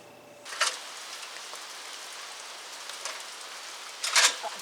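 Steady rain falling outdoors at a farm barn, a soft even hiss throughout with a few louder patters and splashes near the start and end, and no voices.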